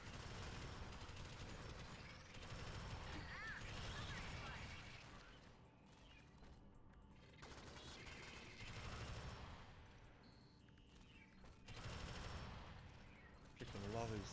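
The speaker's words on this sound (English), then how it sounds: "Freaking love these turrets, man." Turret gunfire in a video game rattles in long, dense bursts separated by brief lulls, heard faintly with talking voices mixed in among the shooting.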